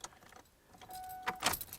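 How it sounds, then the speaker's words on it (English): Tryout keys jangling at the ignition of a 2009 Ford Ranger: quiet metallic clinks and rattles, building to a couple of louder jangling bursts near the end. "we'll try those other keys in the ignition now"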